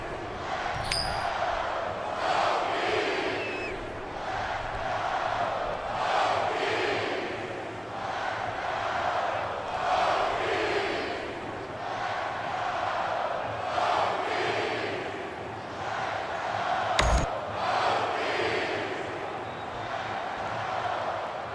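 Large stadium crowd of over 66,000 at Lane Stadium in NCAA Football 14, a steady, continuous roar with swelling waves of cheering and a single sharp bang near the end.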